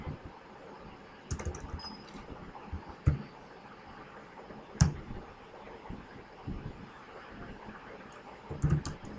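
Keys tap unevenly on a computer keyboard, a scattering of soft clicks with a few louder strikes, close by with no talking.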